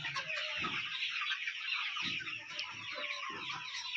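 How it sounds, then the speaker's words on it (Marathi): A dense chorus of chicks and hens peeps and chirps continuously on a poultry farm, with low clucks bursting through now and then, like a crowded poultry shed. "कोंबड्यांचे पिल्ले"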